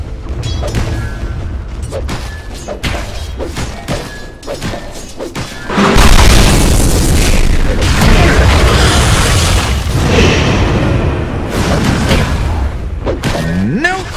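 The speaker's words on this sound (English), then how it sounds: "Dire's middle tower, is under attack." Explosions from a Dota 2 tower under attack, a dense, loud burst of booms and crashes that swells midway and holds steady, following sparse clicks and game announcer voice.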